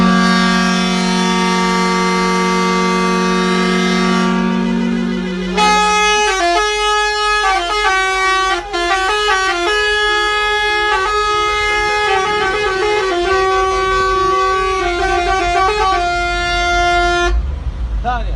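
Loud, blaring horns of old-model cars at a desert gathering sound one after another and overlap, sustained long blasts followed by a flurry of honks in varied pitches, with voices underneath.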